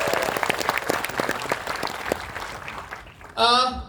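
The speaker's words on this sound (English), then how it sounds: "Can we have a big round of applause for this?" A crowd claps steadily in sustained applause, then a voice begins speaking loudly over the fading claps near the end.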